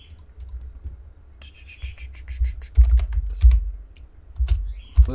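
Computer keyboard typing, close and crisp, with irregular bursts of key clicks over a low thumping rumble, growing heavier and more emphatic toward the end, with no speech.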